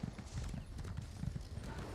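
Horse hooves clip-clopping at a steady trot while riding in Elder Scrolls Online, with low, even thuds continuing throughout at moderate volume.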